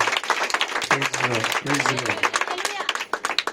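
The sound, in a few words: congregation clapping loudly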